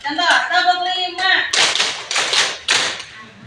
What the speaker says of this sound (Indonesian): Kalian hanya tinggal tepuk tangan saja. Misalnya tepuk 1, tepuk 2, tepuk 3, tepuk 4,